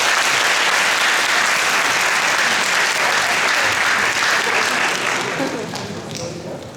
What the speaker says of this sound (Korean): 우리 선배님을 큰 박수로 맞이하겠습니다